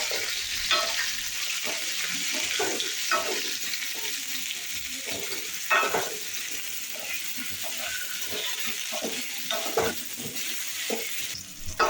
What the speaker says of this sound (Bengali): ওই তেলে প্রথমে আলুগুলোকে ভেজে নেব।